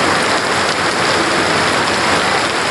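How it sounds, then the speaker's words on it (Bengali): Heavy rain pours down steadily outdoors at a roadside junction, a dense, continuous roar of drops striking the surface at close range, with no pause or voices. "তো বৃষ্টি এমন দ্রুত নামছে"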